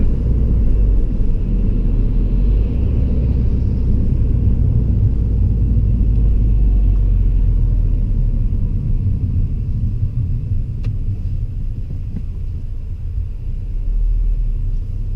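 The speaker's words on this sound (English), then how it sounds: "This car is so nice to drive." A car engine gives a steady, loud, low rumble while driving on a carriageway during a driving lesson, with continuous road and cabin noise throughout and no speech.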